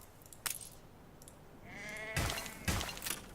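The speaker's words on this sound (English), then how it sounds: "we are going to make a sheep farm" Sheep bleat on a sheep farm in Anno 1800, with two quick calls early on and then louder, overlapping bleats near the end over a low game ambience.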